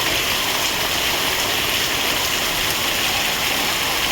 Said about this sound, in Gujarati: તમને બતાવીએ જુઓ મિત્રો, ફૂલ વરસાદ